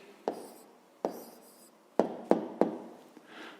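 A pen writes out a math answer on paper in a handful of distinct, close taps and strokes, separated by short quiet gaps.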